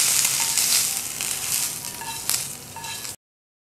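Chicken pieces frying in a pan while being cooked for a lunch box kabab snack, giving a close, continuous hissing sizzle with light crackles and stirring scrapes, cut off abruptly at the end.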